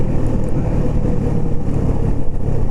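The engine of a small motorcycle drones close and loud during a ride, a rough, steady rumble with slight fluctuations and no speech.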